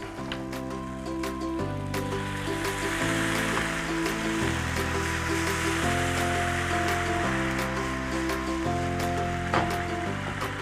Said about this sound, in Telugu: ఇప్పుడు వాటర్ యాడ్ చేసుకుంటాం.